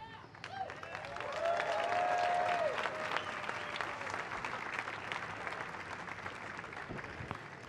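Audience applause at an outdoor July 4th Declaration of Independence reading ceremony following a fife and drum corps performance, a steady wash of clapping that swells then gradually thins, with a voice briefly heard over it.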